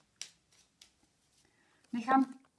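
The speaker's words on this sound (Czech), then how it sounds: "teďkom zamíchám karty" A deck of gypsy fortune-telling cards is shuffled by hand, giving a few short, sharp riffling snaps spaced apart. A voice speaks briefly near the end.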